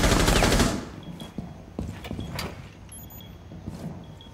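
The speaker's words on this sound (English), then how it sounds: "They're shooting through both walls." Rapid bursts of gunfire from Rainbow Six Siege shooting through walls on the Park map: a loud dense volley at first, then scattered sharp shots and impacts at mid distance.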